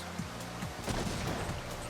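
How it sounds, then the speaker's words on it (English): Explosions in the video game Blinx the Time Sweeper go off as a quick run of several muffled, rumbling bursts in close succession, faint and set against low background game noise. "How big are those explosions?"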